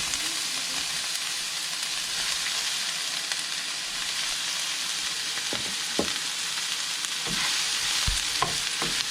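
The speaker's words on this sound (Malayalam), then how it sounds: "ചൂടായ ഓയിലിലേക്ക് സ്ലൈസ് ചെയ്ത് വെച്ചിരിക്കുന്ന സവാള ചേർക്കുക." Sliced onions fry in hot coconut oil, a steady close sizzle that runs throughout, with a few faint clinks of stirring near the end.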